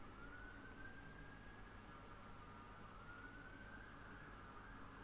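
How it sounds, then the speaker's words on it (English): Ambulance siren outside with an unusual tone, a faint, steady wail heard from a distance behind a constant background hiss. "This ambulance is different than the usual ones."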